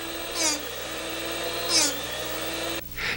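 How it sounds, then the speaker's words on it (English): A DD Classic 400 drill sharpener's wheel whines steadily as a chucked drill bit is ground against it, with a few brief, brighter grinding bursts rising out of the constant motor tone. "The drill bit is ground by the sharpening wheel each time you turn the chuck."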